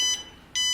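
Two short, shrill electronic beeps from the buzzer on a ZERO1 smart board, set off by an ultrasonic sensor, sounding close with a brief silent gap between them.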